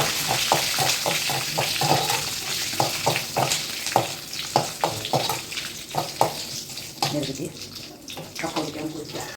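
Hot oil tempering in a pan for a traditional Kerala tapioca dish gives off a steady, loud frying hiss with rapid crackling bursts and stirring scrapes close by.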